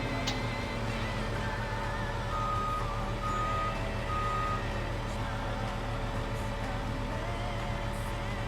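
Steady, repetitive reversing beeps from a Peterbilt truck in the Farming Simulator 15 video game, sounding continuously over a constant engine drone and background game noise, with no talking.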